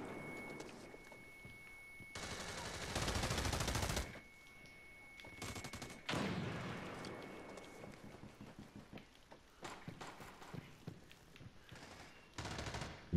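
Gunfire in America's Army: Proving Grounds, with bursts of automatic fire and single shots in uneven clusters, some sustained runs lasting about a second, fairly faint overall.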